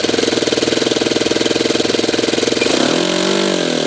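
A Saito twin-cylinder model glow engine runs with no glow heat, first at a steady rapid buzz, then eases down toward low throttle, the pulsing firing rhythm slowing and settling, loud and close.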